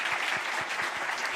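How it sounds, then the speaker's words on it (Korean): Congregation in a Korean church service clapping together after a prayer, a steady, dense wash of applause at moderate distance with soft low thumps, no voices on top. "네, 박수로 격려하겠습니다."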